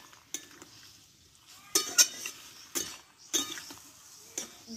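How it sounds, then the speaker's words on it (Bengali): A spoon stirs tomatoes cooking down in a pot, producing intermittent scrapes and light clinks against the metal at irregular intervals, fairly quiet with soft bubbling between strokes. "বারে বারে এইভাবে কিন্তু নাড়িয়ে দিতে হবে, না হলে কিন্তু তলে লেগে যেতে পারে।"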